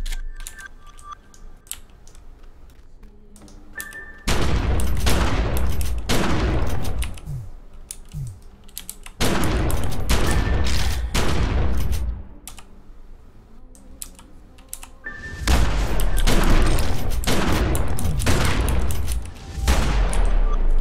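Shotgun blasts ring out in bursts of rapid, loud reports in The Secret World, with three dense clusters of firing separated by quieter gaps.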